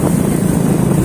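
A motorcycle climbing uphill on a hill road, its engine a loud, steady drone mixed with wind rush, with no talking.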